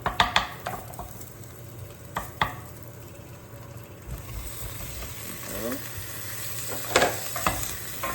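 Beef going into a hot pan for Hong Kong style beef curry, with a steady sizzle and frying hiss, sharp clatters of utensils and stirring scrapes throughout.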